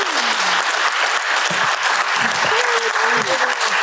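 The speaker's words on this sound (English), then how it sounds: "let's give a big round of applause for our guests" An audience bursts into loud, sustained applause for guests, with a dense clatter of clapping and a voice speaking briefly underneath.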